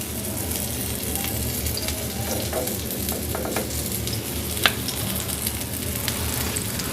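An egg paratha fries in ghee on a pan as it is pressed down, giving a continuous dense sizzle with scattered crackles and one sharper pop midway.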